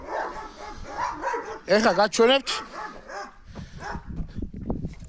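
Georgian shepherd (nagazi) puppies give a few high yips and whimpers close by, interrupted by a person talking over them.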